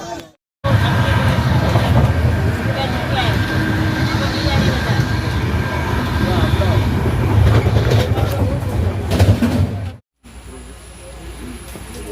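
A train rumbles past close by with steady rolling clatter for about nine seconds before cutting off abruptly, followed by quieter ambient noise.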